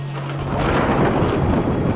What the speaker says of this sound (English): The mother of storms is rolling in here.